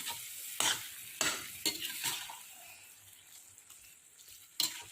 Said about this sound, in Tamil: நல்லா இதை கிண்டி விட்டுக்கலாம்